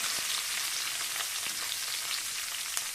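Dried red chillies frying in hot oil, giving a steady, dense sizzle and crackle that holds evenly throughout at close range.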